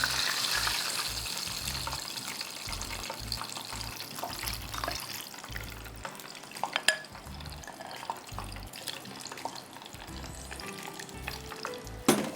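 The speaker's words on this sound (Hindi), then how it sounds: "बहुत तेल गरम हो गया है।" Battered sesame chicken pieces frying in very hot oil, a steady crackling sizzle with occasional spoon stirs and small clinks, close and continuous throughout.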